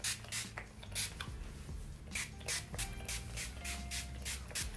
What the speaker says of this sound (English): We're just gonna spray this